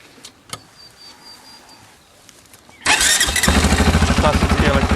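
A Dinli quad bike is started with its electric starter: a quiet moment with a few small clicks, then a sudden whirring crank that catches into a loud, steady idle close by.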